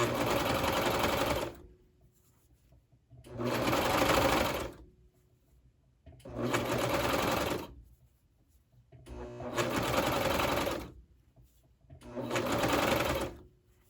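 Sewing machine stitching a knit dress, running in five steady bursts of a couple of seconds each with short quiet pauses between, close and fairly loud.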